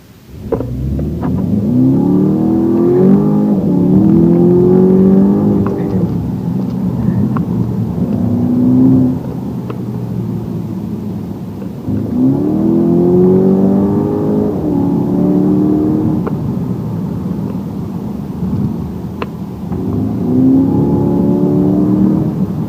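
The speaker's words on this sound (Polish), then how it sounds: "dźwięk nie pochodzi tylko z silnika czy wydechu, ale także z głośników" A Skoda Octavia RS 2.0 petrol engine of 220 hp revs up repeatedly in long rising sweeps, dropping back between pulls, with a throaty exhaust note, partly played through speakers, close and loud.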